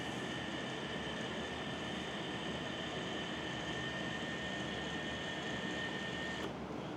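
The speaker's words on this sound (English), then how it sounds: "Here's the rotor turning." An antenna rotor turns a hex beam with a steady, continuous mechanical whir and hum that holds level throughout, then a brief knock near the end.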